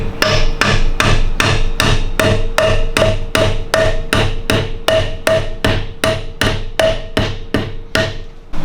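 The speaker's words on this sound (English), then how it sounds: "So let's try with the rubber hammer." Rubber hammer tapping a BMW N62 crankshaft hub into place during a timing chain overhaul, about twenty sharp, evenly spaced blows in a steady rhythm, close and loud, with no talking.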